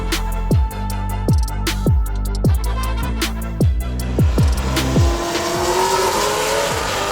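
Hot rod cars revving hard on a 4,400-foot drag strip, loud close repeated engine blips and gear-change revs, then a roaring launch with tire squeal fading into the distance.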